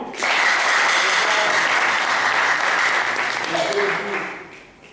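A general assembly of the Kwilu health civil society platform in Bandundu bursts into loud, sustained applause after an election by acclamation, the clapping holding steady and then fading near the end, with some voices mixed in.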